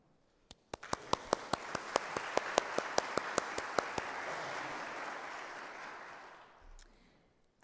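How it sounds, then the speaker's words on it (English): A college commencement crowd breaks into sustained applause, sharp individual claps standing out at first before blending into a steady wash that gradually fades. "have a moment of applause"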